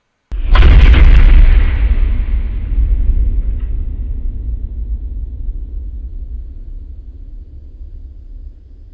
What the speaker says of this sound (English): The railgun fired.